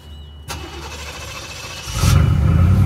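A 1989 Chevy Caprice engine cranks with a sharp click, turns over, and catches into a louder rumbling idle that swells near the end, close by with no talk.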